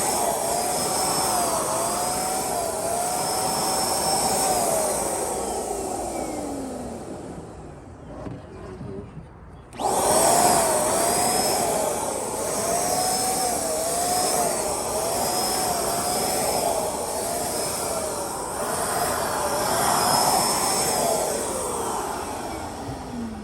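A paint spray gun hisses in a steady, close, fairly loud stream, pausing briefly midway before resuming, with a whining pitch that drifts up and down under the spraying.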